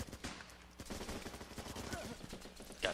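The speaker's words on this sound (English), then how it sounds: "Come on, gun him down." Rapid gunfire in the military shooter game Running With Rifles, dense bursts of shots crackling through a busy battlefield mix, with a voice talking over it and a sharp loud shot near the end.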